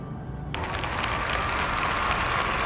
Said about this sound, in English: They're back to applauding.